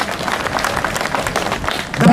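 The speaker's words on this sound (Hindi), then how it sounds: "एक बार जोरदार ताली हो जाएगा।" Crowd clapping at a welcome ceremony for a visiting legislative assembly speaker in Dungarpur, a loud continuous wash of many hands that swells slightly at the end.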